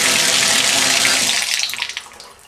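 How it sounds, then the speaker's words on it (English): Water gushes loudly from a running tap into a bathtub and down a freshly cleared drain fitted with a lift-and-turn stopper, then cuts off and trails away in a few splashy gurgles and drips. "thought we'd just run a little more water through the drain, make sure it's good and clear"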